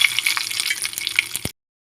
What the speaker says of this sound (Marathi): आता यात पाणी थोडं ओतून घेऊया